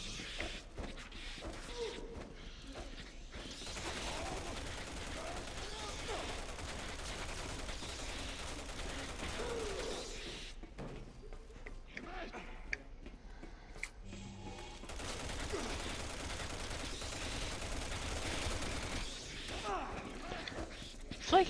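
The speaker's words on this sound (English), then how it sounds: "It's like he's just blind firing the whole time." Gunfire in Resident Evil 6, steady bursts of shots mixed with game noise and mechanical clatter over much of the stretch, briefly thinning out midway.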